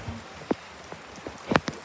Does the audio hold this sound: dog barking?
no